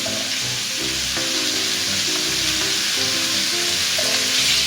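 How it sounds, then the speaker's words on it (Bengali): Pumpkin and pumpkin greens fry together in a pan for a Bengali shak chorchori, giving a steady, close sizzle with intermittent stirring scrapes and no talking. "এখন আমি কুমড়োগুলো একসঙ্গে দিয়ে ভেজে নেব ভালো করে"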